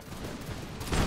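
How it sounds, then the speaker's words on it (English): Musket volley from French troops in an American Revolution strategy game, a dense crackling fusillade of overlapping shots that swells louder toward the end. "French troops open up fire."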